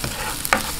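Garlic sizzles in a hot pan for chicken empanada filling, a short burst of close frying hiss with a quick stir scrape near the end.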